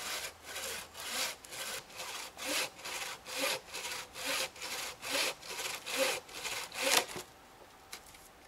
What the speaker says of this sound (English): it's nice and steady using the full length of the saw blade